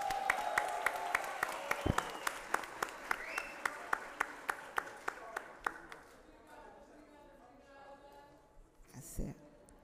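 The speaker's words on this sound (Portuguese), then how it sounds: "Acho que ela merece aplausos" An audience at a formal awards ceremony claps in a hall, a burst of applause that thins to scattered, slowing claps and fades out, with faint voices behind it.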